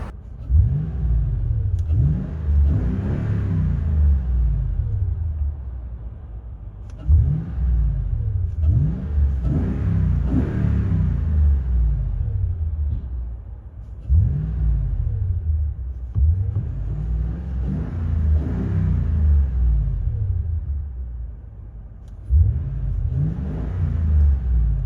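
From inside the cab, a 2015 Toyota Tundra 5.7L V8 with Flowmaster 50 Series exhaust and glass packs rumbles loudly through repeated revs, each rising and falling in steady waves.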